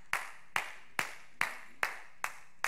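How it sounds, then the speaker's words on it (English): A slow golf clap from a single pair of hands: seven sharp, evenly spaced claps, each about half a second apart, close and clear with no talk. "Here's a slow golf clap."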